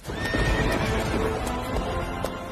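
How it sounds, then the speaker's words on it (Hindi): Horse hooves clip-clop steadily as a mounted rider arrives at a doorway in a period drama, with a loud whinny and neighing over the hoofbeats throughout, close and clear. "घोड़े पर सवार होकर चौखट तक पहुंच गए।"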